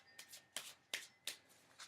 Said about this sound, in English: These are very sticky and very large cards, so it's a little hard for me to shuffle.